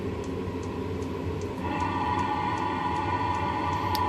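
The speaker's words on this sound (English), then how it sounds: "So that noise is actually quite annoying, the rumble from the combustion" A cheap Chinese 5 kW diesel heater runs with its exhaust silencer removed, giving a steady, loud combustion rumble with faint regular ticking, close by and continuous with no talking.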